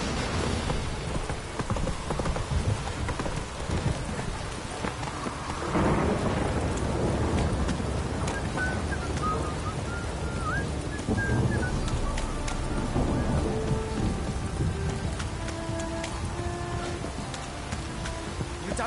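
Steady rain and rolling thunder in the video game The Witcher 3, a constant wet hiss with deep rumbles swelling midway, plus faint hoof clip-clop from a horse, with no speech.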